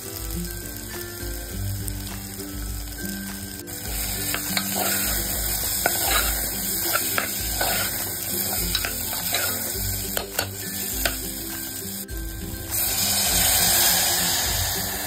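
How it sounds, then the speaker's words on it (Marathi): Water is poured into a sizzling pan of elephant foot yam curry. A steady frying hiss runs throughout with scattered clicks and scrapes of stirring, and it grows louder near the end. "यामध्ये आता आपण पाणी ऍड केलंय, सुरण शिजलं जाईल इतकं पाणी आपण यामध्ये ऍड केलेलं आहे।"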